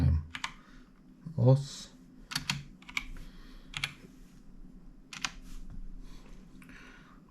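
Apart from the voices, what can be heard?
typing on computer keyboard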